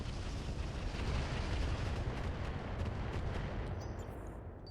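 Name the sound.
cover fire in RogueTech (BattleTech) video game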